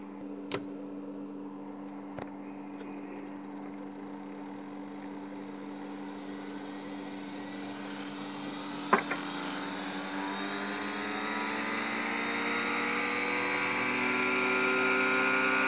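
A Bedini motor spins up with a steady electric hum and whine that rises slowly in pitch, broken by a few sharp clicks early on, close and moderately loud, with no voices.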